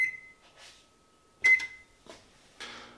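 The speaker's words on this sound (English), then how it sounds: "turn on the oven and set it for 250 degrees" An oven's control panel gives a short, bright electronic beep, then another about a second and a half later, as the temperature is set to 250 degrees, with soft handling clicks in between.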